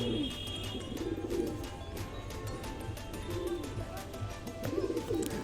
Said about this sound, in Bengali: খুবই সুন্দর পায়রা কালচিরা অনেক পুরানো জেনারেশন বেনারসি কালচিরা